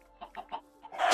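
A chicken in Minecraft gives several short, soft clucks in a quick row, followed by a louder burst of noise as it is struck.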